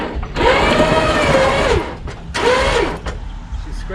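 The underside of a 1971 Plymouth Satellite Sebring Plus scrapes and drags across rock in two loud, close grinding bursts, each about a second and a half long, separated by a short pause.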